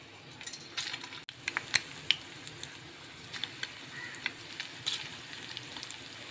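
An egg fries in hot oil over a medium flame, a steady close sizzle with frequent sharp pops and crackles spattering throughout.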